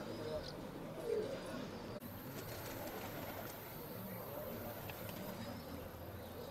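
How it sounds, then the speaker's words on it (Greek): Pigeons coo at a pigeon loft in Veria, Greece. The cooing sits in a dense, steady outdoor wash of noise, with some faint chirps in the mix. "Τα περιστέρια του Στάθη, του Πολυμέρη."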